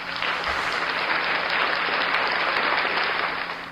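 Steady applause, loud and dense for several seconds, with no voices over it, fading slightly at the end.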